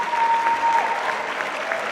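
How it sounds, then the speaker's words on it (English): A band concert audience applauds the Jazz Lab after its performance, with dense, continuous clapping that stays loud and even throughout the short stretch. "if you want to give one more round of applause for the Jazz Lab who just finished up their performance"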